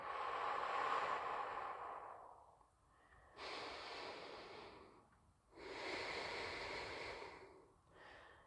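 Slow, deep meditative breathing close to the ear, three long airy breaths with quiet pauses between them and a shorter fourth starting at the end, soft and unhurried with no talking.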